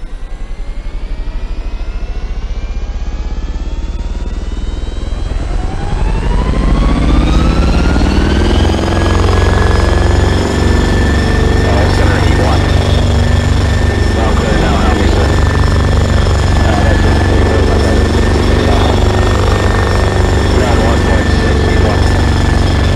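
A loud Osprey tiltrotor engine in a video game spools up in the first seconds, then settles into a steady, heavy rotor drone with a constant high whine and low thumping throughout.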